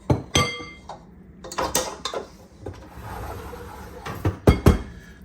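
A spatula scrapes blondie batter from a mixing bowl, making intermittent clinks and scraping strokes in short bursts. No voices are heard.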